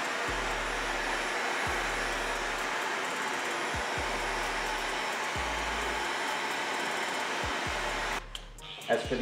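Hair dryer running steadily on low speed with no heat during a men's fade haircut in a barbershop, a constant loud whoosh lasting several seconds before cutting out near the end.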